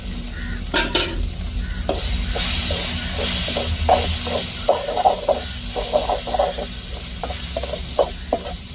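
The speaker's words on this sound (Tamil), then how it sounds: "இங்கே பாருங்கள் கிண்டிக்கிட்டே இருக்கணும் பிடிக்க விடாமல்" Soaked dried fish fries with spice powder in a pan for a dried fish thokku while being stirred constantly, with a continuous sizzle broken by repeated sharp scraping clicks of the spoon against the pan.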